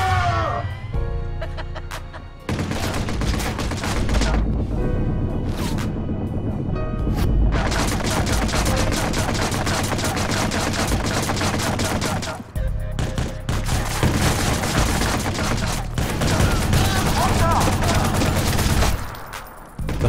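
Loud video game combat from Watch Dogs with a bomb explosion and bursts of gunfire, dense continuous rapid shots and crashing impacts filling the whole stretch, with brief drops between volleys.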